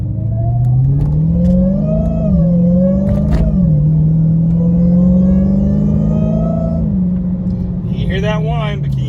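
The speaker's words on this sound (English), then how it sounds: "You hear that whine, but can you hear the exhaust?" A Dodge Charger Hellcat engine revs and accelerates on its stock exhaust with a rising, whining supercharger tone over a deep exhaust rumble, steady and close, ending in brief wind noise.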